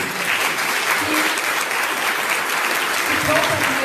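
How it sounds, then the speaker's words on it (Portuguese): Sustained, dense applause from an audience at an interview event in Itápolis, São Paulo, with steady clapping filling the whole stretch at an even, fairly loud level. "eu gostaria de uma salva de palmas para o nosso irmão Aloísio"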